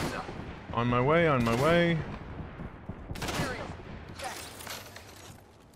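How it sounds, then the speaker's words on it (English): Apex Legends gunfire in a video game match, with bursts of shots crackling across the clip, partly under a voice speaking briefly. "taking fire!"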